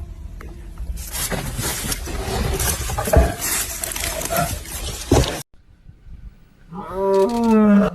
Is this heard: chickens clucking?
no